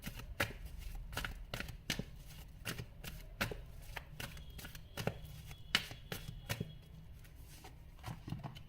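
Tarot cards being handled and shuffled, a quiet close series of irregular crisp riffling snaps and soft slaps, with no talk.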